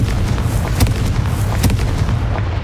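A Confringo spell in Hogwarts Legacy sets off a string of loud, close explosions, several sharp booms bursting over a dense rumbling wash.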